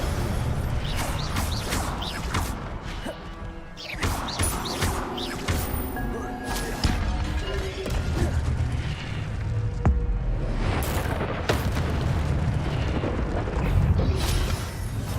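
Spell effects such as Protego and Incendio cast in a Hogwarts video game produce dense, loud bursts, booms and crackling blasts that follow one another almost without pause.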